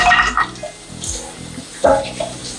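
Jaggery water pours and splashes in short bursts close by, gurgling into a container with brief pauses between pours.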